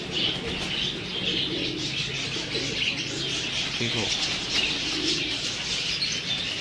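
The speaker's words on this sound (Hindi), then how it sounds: "ये जी उस्ताद जी के कबूतर हैं कुछ" Pigeons coo in a loft with a constant murmur of chirps and soft wing flutters. Someone speaks briefly over them.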